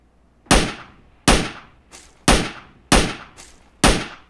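An SLR rifle in the shooter PUBG Mobile fires six sharp, loud single shots at an uneven pace, each with a quick crack and a short fading echo, with fainter distant reports between them.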